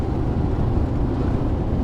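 Inside a moving car cruising at 120 km/h on a windy day with a window slightly open, a dense low rumble of road and wind noise runs steady and loud throughout, with no talk.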